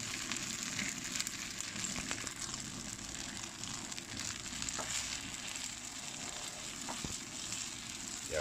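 Glass noodles stir-fry in a hot pan with a steady, even sizzle and occasional scrapes from stirring, continuous and moderately close.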